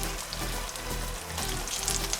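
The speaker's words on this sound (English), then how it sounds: "Because this is going to start sizzling." Steady, crackling sizzle of butter frying in a hot pan, close and continuous, with a faint low hum underneath and no talking.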